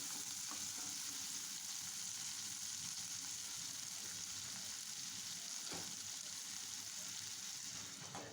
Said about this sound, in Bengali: এখন ঢাকনা লাগিয়ে পেঁয়াজটাকে ভেজে নিব ভালো করে।